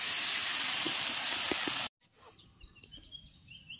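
Battered bread slices frying in a pan for eggless French toast, a loud steady sizzling hiss that cuts off abruptly partway, leaving quiet room sound with faint high chirps.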